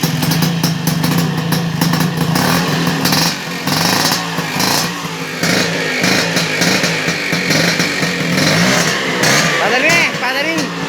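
An old Vespa PX scooter engine, upgraded with a double starter, revs loudly and steadily in a workshop, with a brief dip midway and voices talking over it.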